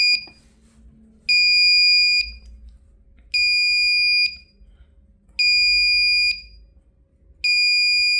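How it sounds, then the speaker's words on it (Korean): A cold-storage freezer temperature alarm buzzer beeps in four long, even tones with pauses between, loud and piercing over a low background hum. "부저는 너무 차가워서 부저를 울린 겁니다."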